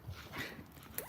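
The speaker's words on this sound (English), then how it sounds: "Phoebe, the puppy. My good dog." Phoebe the puppy whimpers softly, a brief faint whine lasting about a second, close by with a quiet background.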